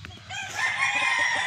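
A gamefowl rooster crows once, a drawn-out raspy call that rises and holds, with faint clucking in the background.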